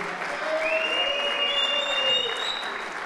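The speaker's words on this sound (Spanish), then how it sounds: "Le damos un fuerte aplauso a Dios," Church congregation applauding loudly and steadily, a dense continuous wash of clapping with faint sustained tones above it.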